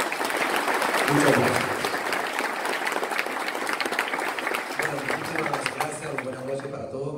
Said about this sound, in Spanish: Qué bueno sentir nuevamente el aplauso de ustedes.